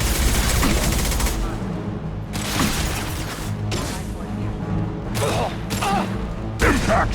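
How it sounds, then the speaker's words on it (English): Shotgun blasts and gunfire in the Mass Effect 2 video game, several loud bursts spread through the clip amid combat noise and mechanical clatter, with voices in the mix. "Shotgun!"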